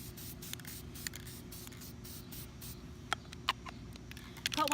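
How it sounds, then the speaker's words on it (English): Mod Podge spray sealer misted from an aerosol can onto a painted wood sign, with short hissing bursts over steady low background noise, several brief sharp squirts standing out near the end. "It's just a spray sealer so that everything stays."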